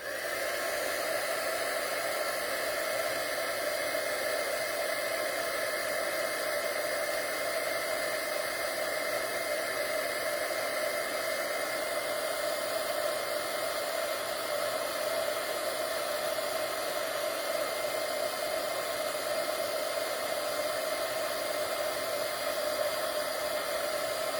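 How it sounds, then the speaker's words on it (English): A craft heat tool blows steadily for the full length while heat-setting embossing powder on a handmade card, a loud, even, breathy roar like a hair dryer with no pauses and no talking. "I'm going to turn on my heat tool, so hang tight for about 30 seconds while we heat set this embossing powder"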